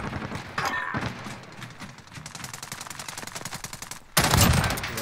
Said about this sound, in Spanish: Mira, disparan de comisaría.